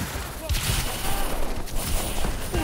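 Gunfire bursts in Call of Duty: Advanced Warfare crackle through a dense, busy game soundscape, with several sharp shots standing out amid continuous battle noise while someone talks over the action.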